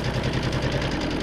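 A sewing machine stitches quilt fabric right over an existing seam, giving a fast, even mechanical chatter that runs close and steady through the short moment with no voices.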